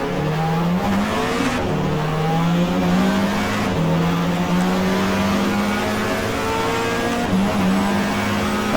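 A 1994 Peugeot race car engine in GTR2 at Mallala keeps droning after a collision, with loud, close revving whose pitch climbs and drops through gear changes, continuous with no pause.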